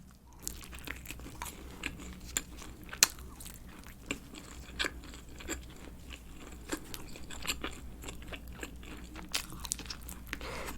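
Someone bites into the crust edge of a Pizza Hut Ultimate Cheese Pocket pizza, heard up close as repeated crunches and chewing noises with soft crackles, no talking.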